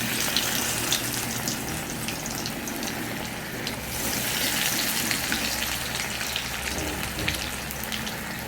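Pumpkin leaf fritters dropped into hot oil fry with a loud, dense, continuous crackling sizzle, close by and unbroken throughout, with no voices.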